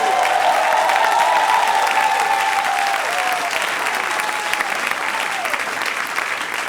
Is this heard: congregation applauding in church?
yes